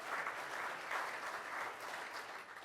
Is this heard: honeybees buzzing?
no